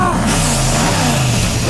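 A car engine revs hard in a steady, loud, unbroken roar that stays close and fills the whole moment without any clear speech over it.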